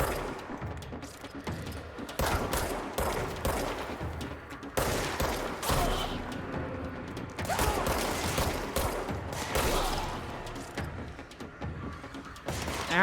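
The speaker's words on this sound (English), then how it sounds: "That guy's shooting me" Sustained enemy gunfire in the video game Control, dense bursts of rapid shots rattling across the whole stretch with loud impacts and mechanical clatter, continuous and close.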